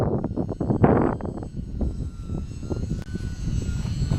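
E-flite UMX P-51 model airplane flying in strong gusty wind, its small electric motor buzzing unevenly and fluctuating under heavy wind rumble buffeting the microphone.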